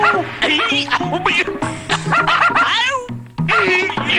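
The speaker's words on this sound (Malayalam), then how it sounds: "പട്ടി പട്ടി." Dog barking and yelping in a comedy scene, rapid excited barks mixed with people shouting and laughing, loud and close throughout.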